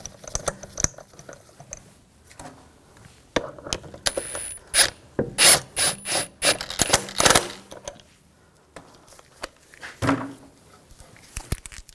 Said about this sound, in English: Put the lug bolts, get that started.